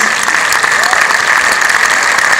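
Dense, steady applause from a theatre audience at a film premiere fills the room loudly and evenly for a couple of seconds, with a voice faintly mixed in.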